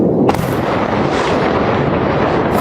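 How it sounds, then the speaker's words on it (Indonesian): Missile strikes blasting across central Tel Aviv, a loud, continuous wall of booming, crackling rumble that erupts sharply at the start and keeps roaring without pause. "beberapa rudal tetap menghantam area pusat Israel dan menimbulkan gelombang ledakan yang terdengar luas di kota"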